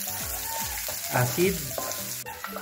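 Onions sautéing in oil in a pan for pork pochero, a soft sizzle with stirring scrapes and brief speech over it.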